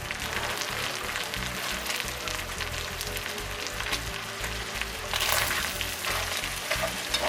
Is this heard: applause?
no